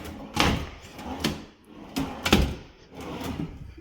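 Soft-close kitchen drawers in a house are opened and closed several times in a row, each movement giving a muffled slide and a gentle thud, fairly close and moderately loud with no one talking.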